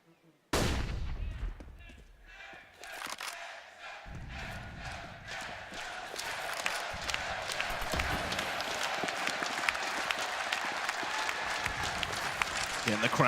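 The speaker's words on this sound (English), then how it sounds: "And the crowd trying to rally the troops of ENCE." Crowd in an esports arena at a CS:GO major match between ENCE and Team Liquid at IEM Katowice, a loud sustained roar and clapping that swells and carries on under the commentator's talk, along with in-game gunfire.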